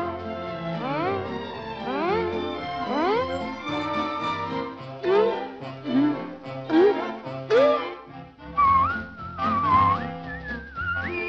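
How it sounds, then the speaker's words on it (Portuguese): A tune whistled with clear sliding, bouncing notes runs over a gentle musical backing, the phrases rising and falling in a lively melody. "Tente um assobio."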